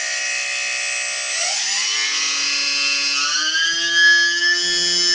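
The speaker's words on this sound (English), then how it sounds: "Let's have a listen to that motor." Small electric motor of an E-Flite UMX P3 Revolution RC plane running on the bench: a high, steady whine that climbs in pitch as the throttle comes up, then holds at a higher speed.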